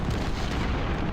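Artillery fire in the Ultimate General Civil War strategy game, a dense, low rumbling barrage of booms lasting about a second, loud and unbroken with no speech.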